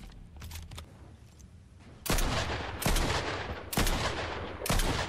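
Gunfire in a Fortnite solo ranked match, a few sharp loud shots arriving in a quick uneven sequence after a quieter start, each with a short ringing tail, and no talk.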